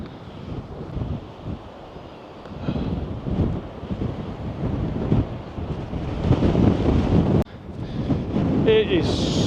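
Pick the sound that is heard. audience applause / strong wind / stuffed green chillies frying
strong wind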